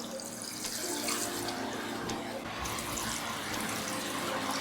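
Water poured steadily over tigernuts to soak them, a continuous broadband splashing and trickling of about two cups of water filling a container, close and fairly loud throughout with no pauses.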